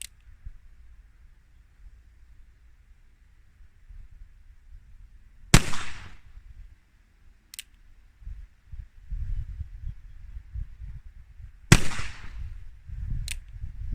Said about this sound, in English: Gonna be shooting some 45 Schofield once again.